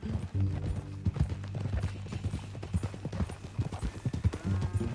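Horse hooves clip-clopping in a steady walking rhythm in the video game Red Dead Redemption 2, close and clear, with some low talk and a faint whinny mixed in.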